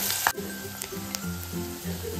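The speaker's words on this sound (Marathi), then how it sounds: "कांदा ना आता तेलावरती परतून घेऊयात।" Finely chopped small onion frying in hot oil in a pan for fish curry, a steady close sizzle with a few soft clicks of stirring.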